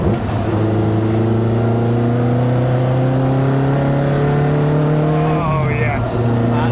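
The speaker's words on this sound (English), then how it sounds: "Big bore, stainless steel exhaust. It kind of pops and bangs on the overrun." Lotus Elise S1 with a big-bore stainless steel exhaust revving: a loud, close engine note climbing steadily in pitch, then dropping back as the throttle lifts near the end.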